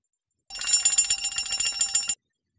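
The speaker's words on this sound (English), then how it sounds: "I'm gonna ring the bell in" A bicycle bell rings in a rapid continuous trill for under two seconds, bright and close, with silence before and after.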